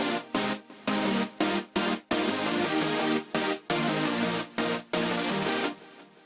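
UK hardcore synth chords processed with a low-feedback delay and slightly cut highs, loud stabbing chords in a choppy rhythm with short gaps, the delay faint beneath them.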